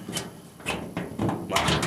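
A few sharp thuds and clicks close by, like a car door shutting and the lock engaging, with a faint voice in the background.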